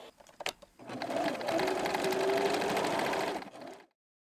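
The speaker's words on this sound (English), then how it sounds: "then sew your buttonholes" A sewing machine stitches buttonholes on a hoodie or sweatpants, a few short starts followed by a steady rapid mechanical whir lasting several seconds before stopping, close and clear with no talk.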